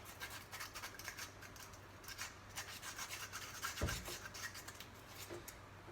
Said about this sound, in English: Take your little piece of sandpaper again and go around the shaft here too.